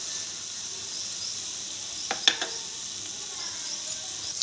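Fenugreek seeds, sesame seeds, curry leaves and dried red chillies frying in oil in a pan, a steady soft sizzle with a few sharper crackles and pops near the middle, close and fairly quiet with no talking.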